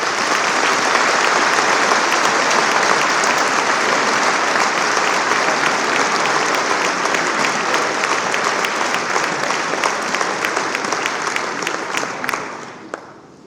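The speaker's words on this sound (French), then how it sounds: "Je vous demande de tous les applaudir." Sustained audience applause at a New Year's greetings ceremony in France, dense steady clapping from a large crowd that carries on at full strength before tapering off near the end.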